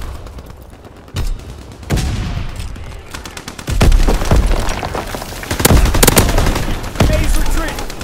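MP40 submachine gun fire in a WWII shooter rings out in loud, sharp bursts and single cracks, scattered across the battle and close by, with occasional heavier booms in the background.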